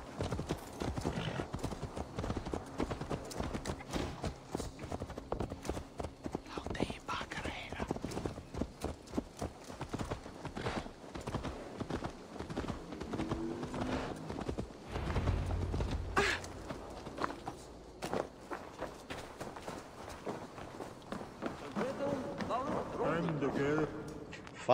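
Horse hooves clip-clop in a steady, continuous rhythm while riding in the video game Assassin's Creed Valhalla, with occasional whinnies, game sounds and people talking over the hoofbeats.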